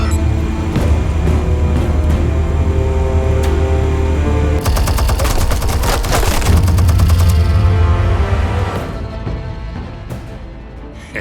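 Explosives fire in Batman: The Telltale Series as a dense, loud barrage of rapid blasts and gunfire-like bursts, peaking in the middle and thinning toward the end.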